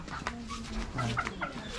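Breeding hens and broodcocks on a poultry farm at the start of conditioning, giving scattered soft clucks and short calls at close range, with a faint voice murmuring in the background.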